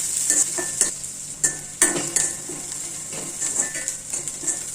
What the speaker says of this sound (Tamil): வேர்க்கடலையும் அதில் போட்டு நல்லா வறுத்துக்கலாம்